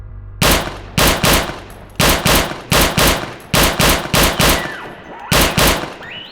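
An FG-42 paratrooper rifle fires in Return to Castle Wolfenstein, loud close bursts of rapid automatic shots in about seven short volleys separated by brief pauses.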